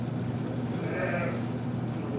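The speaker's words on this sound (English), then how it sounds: "sheep are the animals that count." A sheep gives a single faint bleat that rises briefly above a steady, low background drone.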